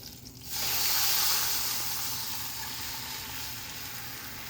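Mustard seeds, cumin, asafoetida, curry leaves and red chili dropped into hot oil for a Kathiyawadi kadhi burst into a loud, steady sizzle that starts abruptly and keeps hissing close up.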